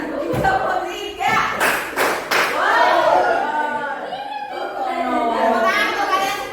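Children in an Indonesian classroom clap together during a clap game, with a few sharp group claps landing in quick bursts among lively chatter and a teacher's voice.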